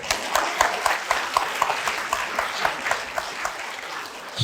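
An audience at an indoor social welfare policy debate for a gubernatorial election applauds, a steady ripple of hand clapping with distinct claps standing out, fairly even throughout and without talk.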